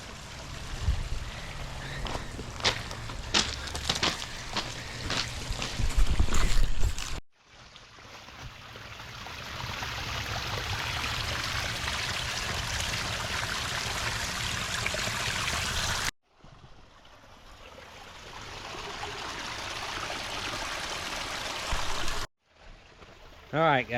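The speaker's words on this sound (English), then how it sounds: "The creek is running." A running creek and waterfall give off a continuous broadband rush of water, heard in several abruptly cut segments, with some knocking and handling noise near the start.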